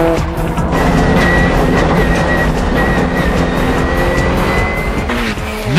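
A four-wheel-drive Subaru Impreza races on a mountain pass touge, its engine roaring loudly and continuously with tires squealing through corners before a brief sharp drop-off at the end.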